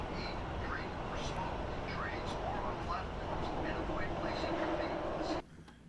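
A Los Angeles subway train rumbles and rattles steadily with clacking and faint squeals while muffled voices sound through the car, until the noise cuts off abruptly near the end.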